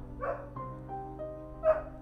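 Short barks from dogs in a Sims 4 household, two or three sharp yaps spaced apart over a low steady drone.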